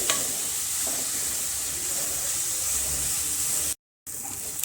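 Finely chopped ginger stirred into fried onions in a pan for aloo kofta curry crackles with a constant close sizzle and light spatula scrapes, with a brief dropout to silence near the end.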